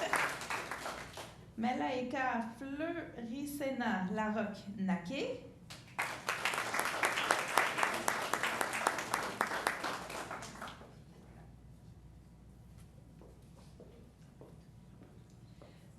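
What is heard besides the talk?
audience applause at council meeting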